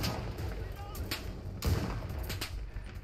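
Gunfire in the shooter video game Enlisted during a survival wave, with a few booming shots and one heavier blast over a dense background din.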